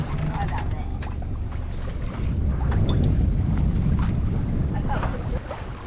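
Wind rushing across the microphone aboard a sailboat under sail in light but building wind, a steady gusting roar with water sounds and faint voices underneath.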